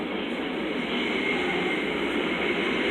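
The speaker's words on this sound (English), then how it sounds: "Here's another train" A train pulls into Long Beach station beside a wooden-pole platform, a steady loud rumble of wheels and cars rolling past close by throughout, with no voices.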